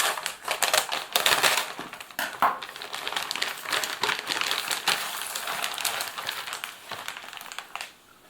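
A simple foil freeze-dried ration bag is cut open and handled, giving a loud, close crinkling and crackling that runs steadily for several seconds, then fades out.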